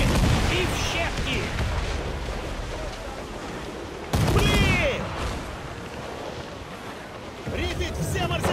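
Pirate ship cannon volleys in Assassin's Creed IV Black Flag: loud, rolling salvos of overlapping blasts near the start, around 4 seconds and near the end, with shouting crew voices and whistling projectiles amid the roar.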